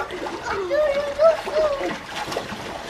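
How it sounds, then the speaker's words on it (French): Water splashes and sloshes in bursts in a pool while a voice chatters nearby, with light trickling between the splashes. "n'éclabousse pas s'il te plaît"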